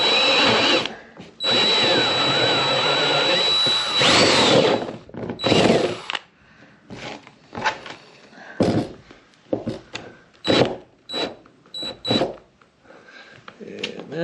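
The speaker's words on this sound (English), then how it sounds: "Got the step down drill. We're going to go about 13/16." A step drill bit cutting a 13/16 hole during a solar generator build, with a loud, steady power-drill whine that runs for several seconds and then breaks into shorter bursts and stops with clunks, up close.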